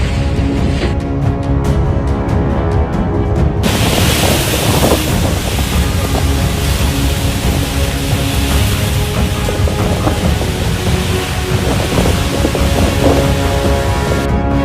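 A strong storm wind sweeps across the town square in Kendal, where market stalls are collapsing. It roars loudly and continuously, buffeting the microphone with heavy gusts.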